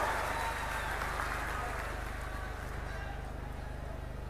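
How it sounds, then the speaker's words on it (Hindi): Applause from a large crowd at a public event in Singrauli, Madhya Pradesh, welcoming the Chief Minister, a dense steady wash of clapping lasting several seconds under a low hum from the venue's sound system. "आइए जोरदार तालियों से माननीय मुख्यमंत्री जी का अभिनंदन करिए"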